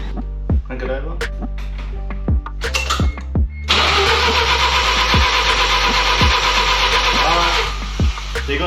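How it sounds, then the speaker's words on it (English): Mazda RX-7 FD rotary engine cranking over repeatedly without firing, rhythmic starter churning in short attempts and one longer sustained crank, with people talking over it. "Crank it over. Up. Crank it over. Yeah, bring up fuel. Crank it over."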